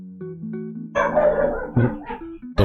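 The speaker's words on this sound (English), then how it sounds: "Dog's still barking." A dog barks several times, sharp yips and woofs in a short burst, fairly close, over a low steady hum and under faint background sounds in a room.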